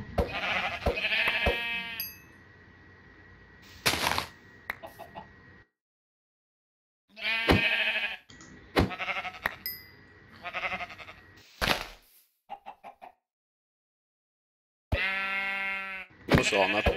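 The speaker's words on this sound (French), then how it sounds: "Donc il y a plein de moutons coincés là-dedans là." Sheep bleat in Minecraft, several loud nearby calls in bursts separated by silences, some overlapping, with a few sharp clicks mixed in.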